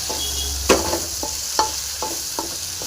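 Ripe bitter gourd fries in a pan for a Tamil pickle, a steady close sizzle broken by a few sharp stirring scrapes and taps.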